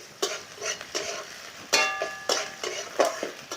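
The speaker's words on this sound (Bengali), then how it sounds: "রসুনটা দিলাম, রসুনটা একটু ভেজে নেবো আগে, তারপরে আদা দেব।" Garlic frying in a pan, later joined by onion and ginger, for a fish dish with water spinach, heard as repeated close scraping bursts of a spatula stirring over a soft sizzle.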